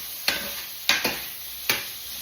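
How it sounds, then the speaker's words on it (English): Bacon for chicken carbonara frying in a pan, a steady hiss of sizzling fat broken by three sharp scraping stirs close by, with no voices. "I'm frying the bacon right now."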